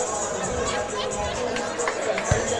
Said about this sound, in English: The officials being razzed by the crowd, and they're having a good time with it.